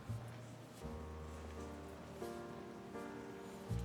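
Heavy rain pours steadily in a continuous, dense hiss of drops striking surfaces, even and moderately loud, with a few low thumps and no voices.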